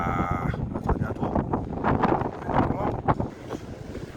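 Gusty wind buffets a microphone outdoors, a steady low rumble with rising and falling blasts throughout, loud and close.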